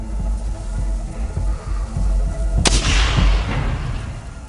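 A single sharp gunshot cracks out over a low rumbling background during a combat encounter at a compound, loud and close, with its echo trailing off afterward.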